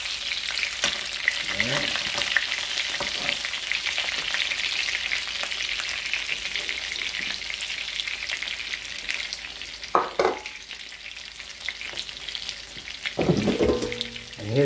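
Food fries in a pan with a steady bright sizzle throughout. A few clinks of utensils come near the end, and a voice speaks briefly.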